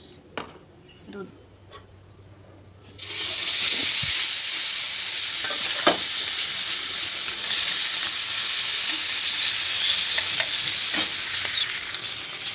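Food hits a hot pan in a home kitchen and bursts into a loud, continuous sizzle after a few quiet seconds of light clinks, with stirring scrapes through the frying.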